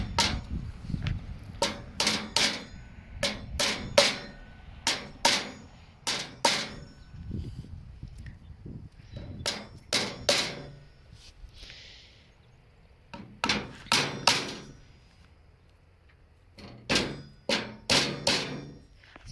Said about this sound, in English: You can line them all up in the hole and then tap them all in at once.